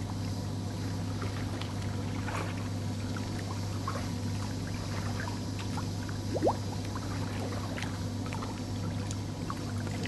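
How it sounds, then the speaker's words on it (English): A Desjoyaux pool pump pushes water through, giving a steady, continuous rush of flowing water over a constant low mechanical hum, with no talking. "you can see it's pushing all the water through. So that's pushing water out"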